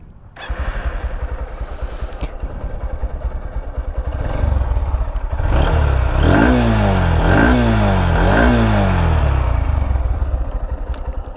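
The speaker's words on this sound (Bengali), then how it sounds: "ইঞ্জিন সাউন্ড বেশ ভালোই আছে, খারাপ না।" A Honda X-Blade commuter motorcycle cranks and fires up, settles into a loud, close idle, then revs up and down through several rising throttle blips before dropping back to a steady idle.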